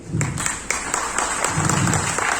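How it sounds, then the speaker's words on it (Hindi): An audience in a seminar hall claps for a guest seated in the front rows. The applause is steady and moderately loud, with a few sharper claps standing out and no talking over it. "ताली बजाओ उसके लिए"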